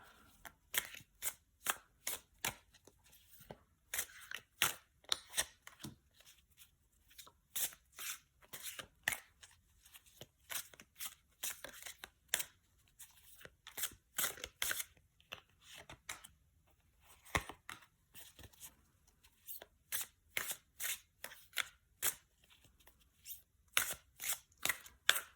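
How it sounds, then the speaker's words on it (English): Tarot cards shuffled by hand in a long run of quick, crisp riffling bursts with short pauses between, fairly close and without any voice. "we'll just shuffle the cards a little bit and see what cards come out"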